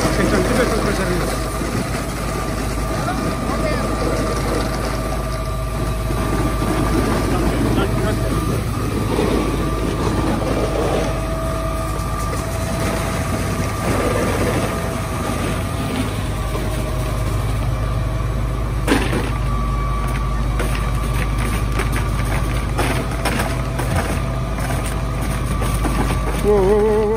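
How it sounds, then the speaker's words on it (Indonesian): A concrete pump machine runs steadily, pushing concrete into basement wall forms on a Toronto building site, a loud continuous mechanical drone with rhythmic pulsing and clatter throughout, with people talking over it. "konkritnya dimasukkan ke mesin pompa, terus mesin pompa nih, mesin pompanya masuk ke sini nih"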